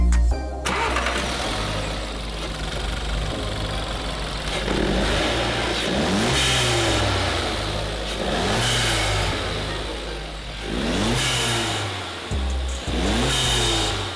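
An Audi A3 S line 1.4 turbo engine with a performance air filter starts and settles into a steady idle, then is revved several times, each rise climbing and falling back, loud and close.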